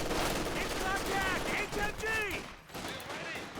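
Bursts of machine gun fire from the Company of Heroes 2 strategy game during a 2v2 match, crackling steadily under near-continuous commentator talk.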